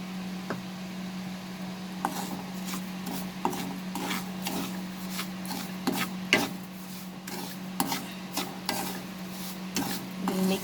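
Roasted semolina stirred in a pan for halwa, a series of dry, gritty scraping strokes at an irregular rhythm over a low steady hum, close and fairly quiet with no talking.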